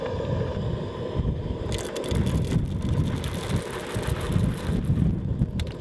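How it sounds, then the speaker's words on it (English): A strong desert wind gust blowing over an overland camp beside a trailer, loud rushing roar with buffeting microphone rumble that swells after the first couple of seconds and stays steady, no speech. "Oh, wind."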